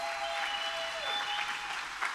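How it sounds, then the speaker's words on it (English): Audience applause at a chamber of commerce monthly meeting, fairly faint and brief, a steady patter of clapping with a faint tonal hum underneath. "Everybody applause."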